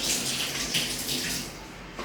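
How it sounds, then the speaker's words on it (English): Hands washed under a running kitchen tap while cooking, a steady close splashing stream of water throughout. "I should wash my hands first."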